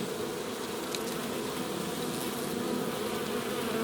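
Honeybees buzz steadily inside a hive as they shed varroa mites, a dense continuous hum holding even and close throughout.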